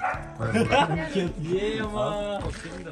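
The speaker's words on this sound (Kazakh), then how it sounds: "мұнда бір ит үріп атыр" A dog yips and barks in short bursts close by at a wedding celebration, mixed with lively people talking over it.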